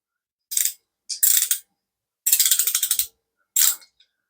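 A Pittsburgh ratchet wrench clicking close up in four short bursts of rapid pawl ticks, one longer run among them, with silence between and no talk.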